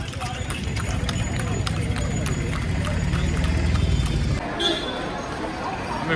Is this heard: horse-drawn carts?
yes